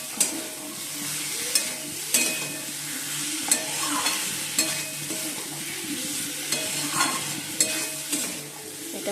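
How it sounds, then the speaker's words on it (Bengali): Spices being sautéed in a pan for a Bengali home-cooked dish, continuous soft sizzling with a spatula scraping and stirring in a loose repeating rhythm, spoon knocks recurring every second or so, no speech. "ভালো করে একটু কষিয়ে তারপর গরম জল দিয়ে দেবো"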